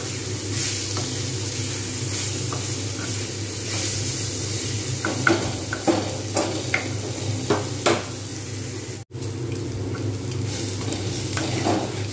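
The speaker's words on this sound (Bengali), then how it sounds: "জাস্ট আমি কিন্তু এগুলো ভালো করে ভাজবো বেশ কিছুক্ষণ ধরে।" Ingredients for sabudana khichuri fry in a pan with a continuous sizzle under a low hum, while a spoon stirs and scrapes in a scatter of sharp knocks against the metal.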